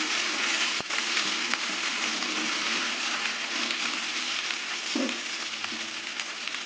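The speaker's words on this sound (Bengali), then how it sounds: "কচুগুলো ভাজতে থাকবে আর কচুগুলো ভাজতে ভাজতে সেদ্ধ হয়ে যাবে" Taro (kochu) pieces fry in a pan with a steady, dense sizzle that holds level throughout, a brief scrape or stir marking the middle, with no voices.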